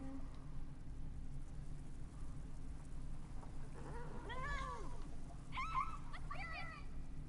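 A cat in The Elder Scrolls Online lets out a couple of plaintive meows, rising and falling, set against a faint steady game ambience with no talk.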